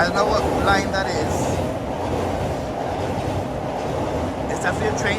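A train passes on a Tokyo rail line, a steady rumble with rhythmic wheel clatter and faint squeals, heard up close over street ambience while a person talks.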